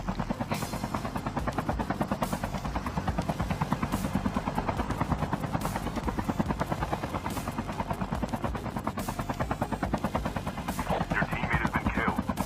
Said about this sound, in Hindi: मैं भी अपना हेलीकॉप्टर उठाया और मैं भी निकल पड़ा यहाँ से